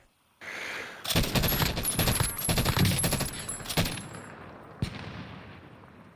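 Gunfire in the video game Warzone comes as rapid bursts of automatic shots, near and fairly loud, clustered over a few seconds, then a single later shot as the firing dies away, with no talk over it.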